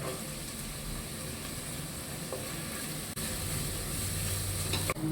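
Onions fry in oil with star anise, cloves and cardamom for a country chicken curry, producing a dense, steady sizzle with a faint stirring scrape and a couple of brief knocks.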